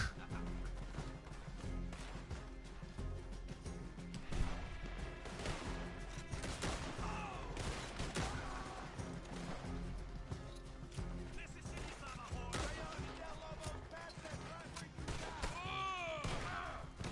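Gunfire from the Western video game Red Dead Online, with shots and heavy impacts scattered through a dense, continuous mix of game sounds, music and voices.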